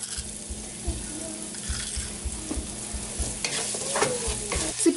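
Onions sautéing with salt in a pan for a quail pepper fry, giving a steady soft sizzle with rhythmic stirring scrapes throughout, close and moderately quiet.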